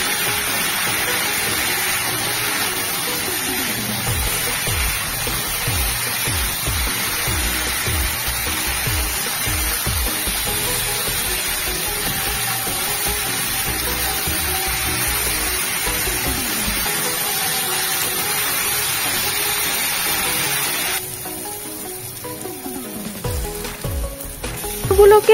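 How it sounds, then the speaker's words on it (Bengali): Potatoes being stirred with turmeric in a frying pan while cooking alur dom give a steady, close sizzle with scraping and clinking spoon strokes, which thin out near the end. "একটু আলুগুলো নেড়ে চেড়ে নেওয়ার পর এর মধ্যে অ্যাড করে দিচ্ছি হলুদ, দিয়ে আবারও একটু নেড়ে চেড়ে নিচ্ছি।"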